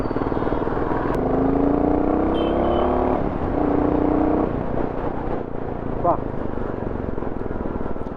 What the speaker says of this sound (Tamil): சைலன்சர் வந்து நல்ல உங்களுக்கு சவுண்டு கொடுக்குது.